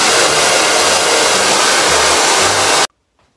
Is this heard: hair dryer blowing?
yes